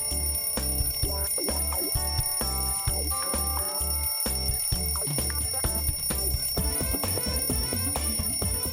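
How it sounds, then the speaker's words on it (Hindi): An alarm clock bell rings loudly and continuously, a shrill metallic jangle with a rhythmic backing running underneath it. "तो अलार्म की घंटी से भी कुछ फर्क नहीं पड़ रहा"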